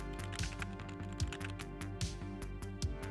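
Fast, steady clatter of keys on a computer keyboard, close and fairly quiet, with regular heavier thumps among the lighter taps and no talking.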